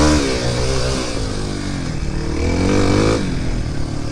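Two-stroke motorcycle on an off-road trail over loose rocks, a nearby raspy engine revving and surging with rising and falling pitch throughout.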